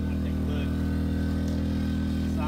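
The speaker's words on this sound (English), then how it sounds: "We got the generator running over here, so we have the lights on inside." Outdoor generator powering lights for a tiny home, a steady low droning hum with a buzzing edge running continuously and fairly close.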